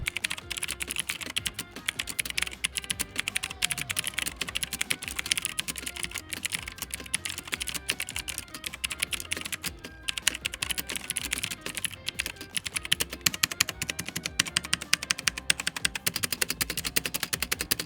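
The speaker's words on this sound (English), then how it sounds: "I don't particularly like how MX Blues sound" Continuous clicky typing on a cheap mechanical keyboard with MX Blue switches, rapid crisp keystrokes clattering steadily and fairly close, with no voices.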